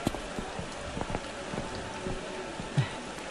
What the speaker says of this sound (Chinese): 怎么突然下雨了？